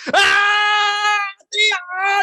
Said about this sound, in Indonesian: Kita teriak, seperti naik coaster.